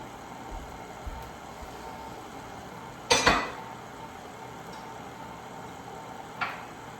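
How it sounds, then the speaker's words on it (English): Dishes are shifted aside at a baking station while dough is mixed: a quick pair of sharp clinks and clatters near the middle, then one fainter clink later, over steady background hiss. "some of those dishes out of the way."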